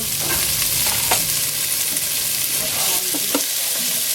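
Eel trimmings sizzle and crackle in a small amount of oil in a restaurant kitchen pan, a loud, steady frying hiss with scattered pops and stirring noises throughout, close up with no talk.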